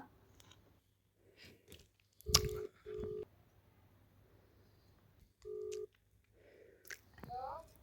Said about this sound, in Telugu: ఇప్పుడైతే మా మమ్మీకి ఫోన్ చేస్తున్నా